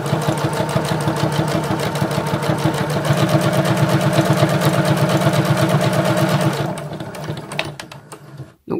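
Sewing machine with a guide foot topstitching fabric at a 3.5 stitch length, a steady loud mechanical whir with fast regular needle pulses running continuously for most of the stretch before stopping with a few soft handling sounds.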